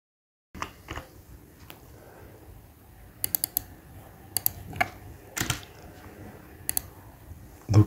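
A formula is typed into an Excel spreadsheet on a computer keyboard, with sparse, close clicking keystrokes that come singly and in short bursts amid quiet pauses.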